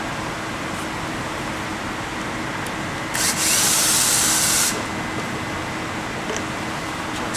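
An electric screwdriver whirs in one steady burst of about a second and a half, removing the mounting screws of a Beachcomber Hybrid3 hot tub equipment pack, over a constant background hum.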